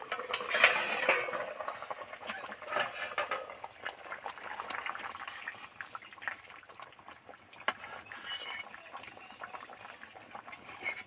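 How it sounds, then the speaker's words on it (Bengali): A pot of taro and fish curry simmering gently on low heat, with soft, faint bubbling and an occasional light clink of a utensil against the pot, no talking. "নিবু আঁচে তো বসিয়ে রেখেছিলাম, টুকবুক টুকবুক করে ফুটছে"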